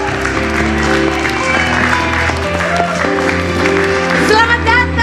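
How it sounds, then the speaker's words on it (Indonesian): Studio audience on an Indonesian TV talk show applauding a guest's entrance, a dense wash of clapping running the whole five seconds with music underneath and a brief voice over it. "beri tepuk tangan untuk Chloe Purnama"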